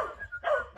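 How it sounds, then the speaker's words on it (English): A dog barks in short, close, loud bursts, two or three quick yips in under a second, with nothing else heard. "So to deter the barking,"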